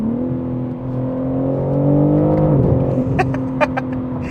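A 2023 BMW M3 50 Jahre Edition with an 8-speed automatic pulls under throttle, its engine note rising steadily and then dropping as the driver lifts off, with a few sharp clicks near the end.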